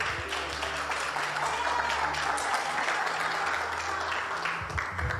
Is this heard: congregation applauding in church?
yes